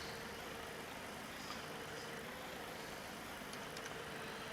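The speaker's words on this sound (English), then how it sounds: "I can't believe I have to drive this stupid tractor." A tractor drives over rugged terrain in the farming video game Farm Expert 2017, giving a steady, dense engine drone that stays even for the whole stretch with no speech over it.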